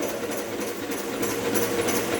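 An IC engine on a test bench runs down during a retardation test after its supply is cut, giving a dense, steady mechanical clatter and hum at moderate level, with no talk.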